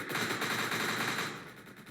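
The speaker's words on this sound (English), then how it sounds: "we're just gonna fire more bullets towards the gunship" Rapid automatic gunfire aimed at a hovering gunship in the heist game Entry Point, a fast continuous stream of shots at moderate distance with no talking.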